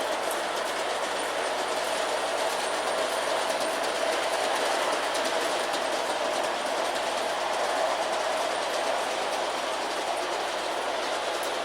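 An LGB model train engine running steadily along its garden-scale track, giving a continuous, close rolling hum with a light clickety-clack and no pauses or voices throughout.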